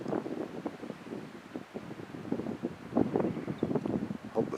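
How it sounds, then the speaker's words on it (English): Steady wind blowing across open country on a cool April day, gusting and buffeting the microphone with continuous low rumbling rushes that swell and ease throughout. "Hope the sound of the wind isn't too loud on this video."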